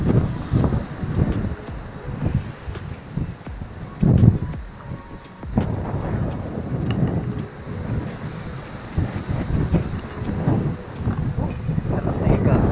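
Strong wind buffets the microphone in a continuous roar at a beach cove in Sual, Pangasinan, with water washing in the background and occasional voices under the noise.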